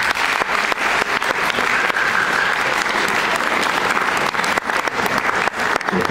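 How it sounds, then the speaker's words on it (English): A crowd at an academic lettering ceremony applauds parents and teachers, producing loud, steady, full applause with crisp individual claps throughout and a faint whoop partway through. "Would you please join me in applauding them?"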